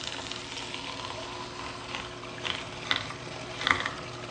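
An Angel juicer grinding whole organic carrots, a low steady mechanical whir with faint crackling and a few sharper ticks and snaps near the end, quiet and continuous.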